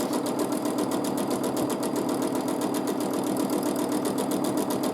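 A sewing machine runs steadily during free motion quilting, its needle hammering in a fast, even rhythm close by.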